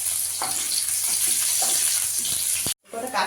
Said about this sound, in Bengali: এখানে একটা আদা রসুন আমি ভেজে নিব